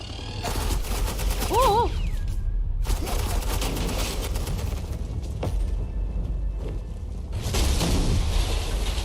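Sustained suppressing gunfire from Agent Quinn in the Batman: The Enemy Within game, loud dense bursts running through most of the stretch, with speech and a short exclamation over the shooting.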